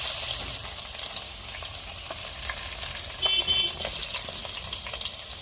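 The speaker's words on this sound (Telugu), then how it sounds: "నూనె అయితే వేడెక్కింది. ఎర్రగడ్డలు వేసుకున్నాము." Onions sizzle and crackle in hot oil in a pan, a steady close frying hiss with a few brief stirring clatters partway through, and no talking.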